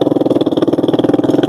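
Chinese-made motorcycle idling with a worn exhaust, a steady rapid low putter of pulses, loud and close, running alone without speech.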